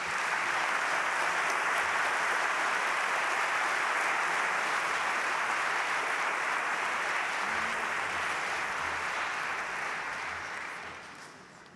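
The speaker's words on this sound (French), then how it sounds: "Toutes nos félicitations, on peut les applaudir." Sustained, dense applause from a large audience at an academic award ceremony, steady and full for about ten seconds before fading toward the end, with no talking over it.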